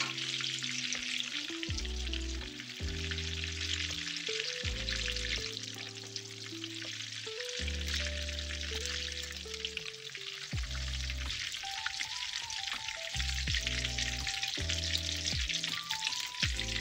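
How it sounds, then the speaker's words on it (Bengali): Eggplant frying in hot oil gives a steady, loud hiss and sizzle with light crackling, running unbroken for the whole stretch under soft background music with no talking. "এইরকম ভাজা হবে বেগুনটা"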